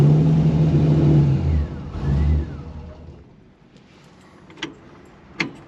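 A 1955 Chevy Nomad gasser's engine revs up close and loud, rising in two surges before dropping away to a quiet idle broken by a couple of sharp clicks.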